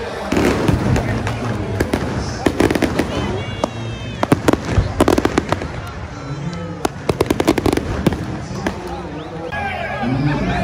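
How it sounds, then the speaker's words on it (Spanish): Fireworks go off at a baseball stadium on the opening day of the Dominican league, Toros versus Estrellas in La Romana, with many sharp crackling pops in rapid irregular bursts while an announcer and the crowd talk over them. "Fuegos artificiales."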